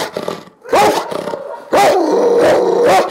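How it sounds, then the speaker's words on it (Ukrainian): A dog at an animal shelter barks loudly and aggressively nearby, a run of harsh, growling barks and roars that rise and fall in ragged bursts, with no voices. "Також розповіла про собаку, який перебуває в центрі вже тривалий час."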